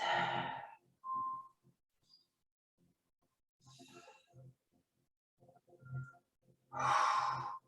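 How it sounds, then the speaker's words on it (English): Deep breathing during a foam-roller Pilates class, several slow, audible inhales and sighing exhales spaced by quiet gaps, close and fairly soft. "And breathe."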